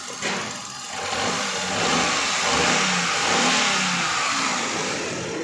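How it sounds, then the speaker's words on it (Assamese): A Hyundai Eon's engine runs close by, a steady mid-pitched hum that swells slightly as if lightly revved, with no voices. "গাড়ী ষ্টাৰ্টতে আছে, ইঞ্জিনৰ মাত"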